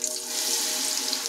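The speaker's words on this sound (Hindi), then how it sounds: "इसी प्रकार से हम अपने सारे आलू को फ्राई कर लेंगे।" Potatoes fry in hot oil with a steady, bright, bubbling hiss, moderately quiet and close, unbroken through the short stretch with no voices.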